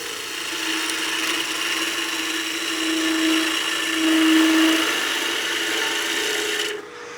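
Cocobolo wood being turned on a lathe with a skew chisel, a steady continuous rasping, shaving hiss over a low motor hum, close and fairly loud, cutting off abruptly near the end.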